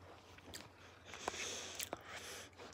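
Sardines are chewed close to the microphone, soft wet squishes and a few sharper crunchy bites spread over a couple of seconds, quiet with no talk.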